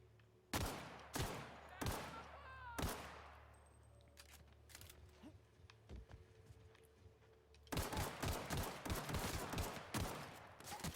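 Gunfire in The Outer Worlds: several loud single shots spaced about a second apart, a quieter stretch with faint mechanical clicks, then a dense burst of rapid automatic fire near the end.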